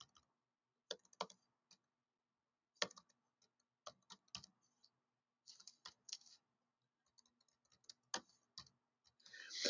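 Keys tapped on a computer keyboard while entering an email address, quick irregular bursts of clicks with short pauses, close and fairly quiet, no talking.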